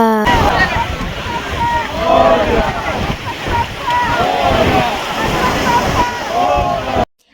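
Strong sea waves crash and roll continuously on the Mumbai shore during a Ganesh immersion, with gusting wind after rain roaring loudly over a crowd whose voices are heard throughout.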